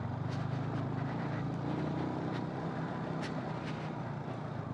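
Yamaha Sniper 155 underbone motorcycle engine climbing a rough, dusty uphill road, a steady droning hum with wind rush, moderately distant and continuous without talk.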